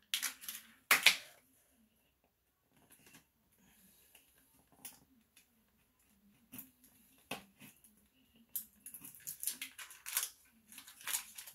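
A dull blade drags through sublimation paper on a cutting mat in short, irregular scraping strokes, close and quiet, with pauses between the cuts.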